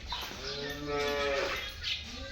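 Cow mooing on a farm where dairy cows are offered for sale, a single long, loud, close moo with rising and falling tone, no talk.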